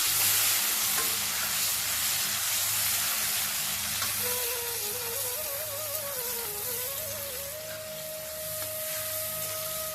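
Chopped onion and tomato fry in a pan for a Bengali egg potato curry, giving a soft, steady sizzle with a faint whistling tone running through it and no voices.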